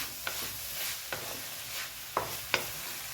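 Long beans and grated coconut stir-frying in a pan for a poriyal, with a soft continuous sizzle and four sharp spatula scrapes spaced irregularly, no voices.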